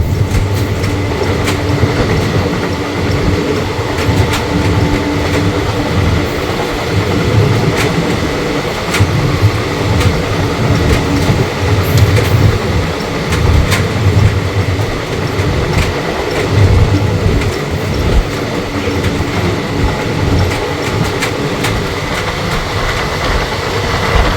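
Passenger train 04311 Yog Nagari Rishikesh Special, running from Kolkata toward Haridwar, rumbles steadily along the rails with continuous wheel clatter and rattling carriage noise, loud and unbroken throughout.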